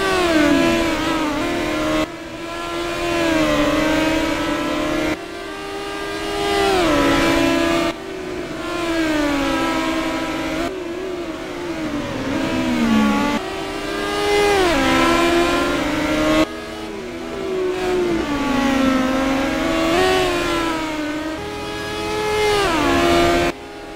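Race cars in an NGP race at Brands Hatch circuit, several engines roaring loudly and close together, with repeated rising and falling revs as the cars accelerate, shift and pass, continuous with no talk.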